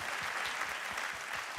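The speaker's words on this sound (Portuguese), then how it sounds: "uma salva de palmas para vocês," Church congregation applauding a choir, a soft, steady wash of many hands clapping, faint and somewhat distant, continuing evenly throughout without speech.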